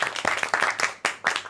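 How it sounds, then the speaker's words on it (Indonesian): Studio quiz show audience claps in a short, lively burst of applause, close and fairly loud, with several distinct surges. "berikan tepuk tangan dulu"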